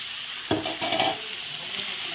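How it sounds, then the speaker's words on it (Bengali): Chopped tomato, onion and garlic hit hot oil left from frying potatoes, with a sharp burst of sizzle, a few clattering stirs of a spatula, and a continuous close crackle underneath. "এখন টমেটো কুচি, পেঁয়াজ, রসুন দিয়ে দিল, এখন ভেজে নেব"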